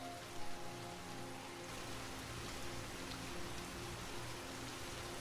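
Heavy rain at night falls in a constant, even hiss of patter on surfaces, moderately loud and unbroken for several seconds, with no voices.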